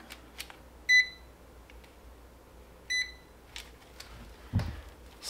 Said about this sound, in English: If I turn the inverter on